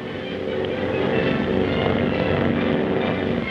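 B-18 bombers roar overhead in a 1941 Army Air Corps mock raid, their propeller engines forming a loud, steady drone that holds throughout with no pauses.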